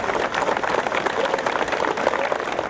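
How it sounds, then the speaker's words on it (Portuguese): Steady applause from a crowd of fans, relatives and friends at a former footballer's farewell fills the whole stretch, dense and continuous with faint voices mixed in. "Foi recebido com palmas."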